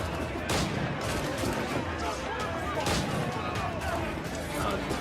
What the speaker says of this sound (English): I like to shoot with the gun barrel.